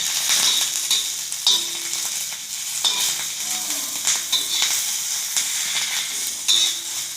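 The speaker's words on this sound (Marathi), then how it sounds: "मिरच्या भाजती" Green chillies roasting in a hot pan, a continuous close sizzle with repeated scraping and stirring strokes at irregular intervals, no voices over it.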